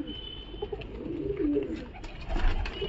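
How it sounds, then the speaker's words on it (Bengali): Pigeons at the Galiff Street pigeon market cooing close by, soft repeated throaty coos overlapping one another over a low ambient background. "গ্যালেস্টির হাট থেকে কিছু কালেকশন করা পিজন কিংবা কবুতর"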